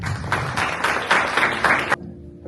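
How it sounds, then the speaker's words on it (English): Audience at a university NAACP dinner applauding a speaker, a loud, dense burst of clapping with rhythmic swells that cuts off abruptly near the end, leaving quiet room tone. "Can we all please give a round of applause for President Griggs right now?"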